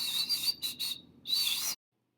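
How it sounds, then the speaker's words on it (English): A Hooded Warbler gives a bright, high song of several quick whistled notes, a short pause, then a final loud burst, fairly close and alone. "Hooded Warbler."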